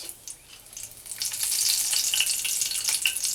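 Cardamom, cloves and cinnamon hit hot oil left from frying katla fish and break into a bright, hissing sizzle. It swells after a soft start and stays loud and crackly, with no voices.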